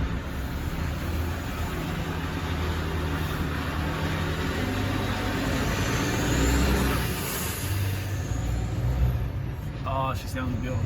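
Volvo FH I-Save 460 truck driving loaded: a steady, droning diesel engine and road noise heard from inside the cab, continuous and fairly loud, with a short rattle near the end.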